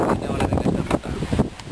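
Strong wind on Agasthyamala mountain buffets the microphone in a continuous, loud rush of rumbling gusts that swell and ease over a couple of seconds.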